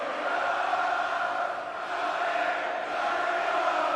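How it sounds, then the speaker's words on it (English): Dense crowd noise fills a large arena at a WWE Crown Jewel event in a wrestling video game, a steady loud roar of fans chanting for Cody Rhodes that holds throughout with only slight dips. "You can hear the crowd chanting Cody Rhodes out in the field."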